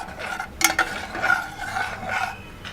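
A spoon stirs a coconut rice mixture with saffron-soaked milk in a pot, giving close scraping and rubbing strokes with a few metallic taps, no talking.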